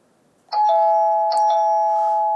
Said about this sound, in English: Doorbell. Quite is loud